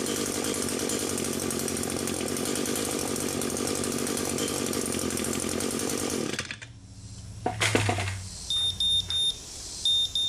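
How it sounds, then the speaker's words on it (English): A GZAIR SA104 travel carbon monoxide detector sounds its alarm in short, repeated bright beeps after a loud running trimmer engine cuts off, the beeps ringing out clearly in a quieter space. "The alarm should go off at 50."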